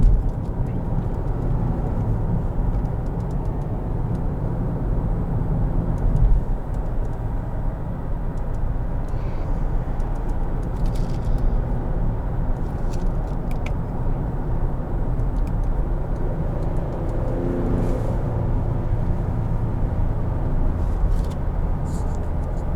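A 2017 Cadillac XT5 with the GM 3.6 engine cruises along, giving a steady, even cabin hum of engine and road noise that holds at a constant level with no speech.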